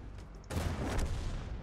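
A tank gun fires in World of Tanks: after a quiet half second, a sudden heavy boom erupts and rolls on as a dense, rumbling blast that lingers to the end, with no talk.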